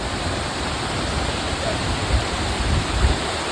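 Liwayway waterfall, also called Rotating Falls, rushes in a loud, unbroken roar of falling water heard up close, with no voices over the constant wash.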